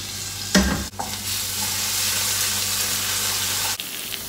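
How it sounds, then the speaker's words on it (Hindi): Chopped garlic frying in about two tablespoons of oil gives a loud, continuous close sizzle, with a sharp burst as it hits the pan and brief stirring noises. "ये मैंने लहसुन जो है चॉप किया है और मैं इसमें डाल रही हूँ"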